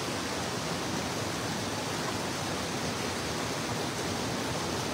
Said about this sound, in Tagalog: Siguro po malakas lang yung agos